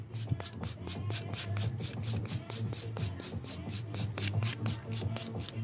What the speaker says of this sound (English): We're going to buff the whole surface of the nail.